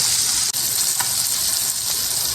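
Tilapia fries in butter in a pan with lemon juice, giving a steady, dense, close sizzle that runs throughout with a brief dip near the start.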